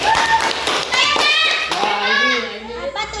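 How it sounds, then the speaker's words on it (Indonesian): Children in a classroom clap their hands in quick, close bursts while young voices chatter and call out over and between the claps. "Tepuk tangannya, tepuk tangannya."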